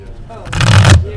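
A deck of Magic cards is shuffled once in a quick riffle, a loud rapid burst of flicking card edges up close, with a voice talking around it.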